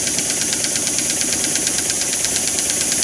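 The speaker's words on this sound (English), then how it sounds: "This is the engine running in the opposite direction." A double-acting slide-valve model mill engine runs in reverse with a fast, even chuffing and knocking beat, holding steady and close with no talk.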